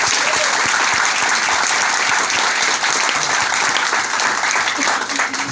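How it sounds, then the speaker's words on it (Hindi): An audience at a Vestige business meeting gives loud, sustained applause for Mr Vivek Kumar: a thick wash of clapping from a large crowd that stays at full strength from start to finish. "तो एक जोरदार तालियां उनके लिए मिस्टर विवेक कुमार सकते।"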